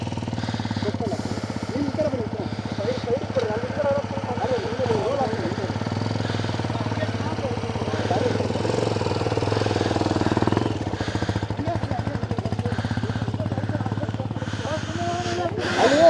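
A motorcycle engine runs steadily in gear on a ride with a low, rough drone and some rises in revs, while people talk over it most of the time.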